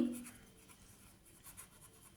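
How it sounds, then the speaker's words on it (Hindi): Pen strokes as notes are written down during an electrical engineering lesson on RMS and average values: soft, faint scratching in short bursts, quiet and close, with no talking. "तो ये वाला हम लोग लिख लेते हैं"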